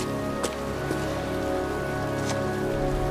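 Pouring rain falls steadily on a cemetery in the video game Heavy Rain, a dense, even hiss of drops hitting the ground with a few faint brighter taps, constant and close with no talk.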